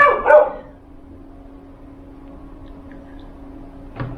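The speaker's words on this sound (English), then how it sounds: "guard dogs that bark at the door when you're videoing" A guard dog gives a short burst of barks at the door at the start, followed by a quiet room hum and one more faint bark at the end.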